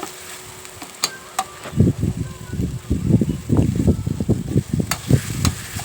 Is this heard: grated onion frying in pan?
yes